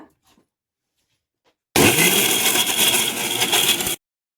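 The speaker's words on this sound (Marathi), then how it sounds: "खोबरं भाजलेलं डाळ भाजलेली तीळ भाजलेले छान असं बारीक वाटून घेऊया" An electric mixer grinder roars loudly for about two seconds, grinding roasted coconut, roasted lentils and roasted sesame seeds into a fine paste, then cuts off abruptly after near silence.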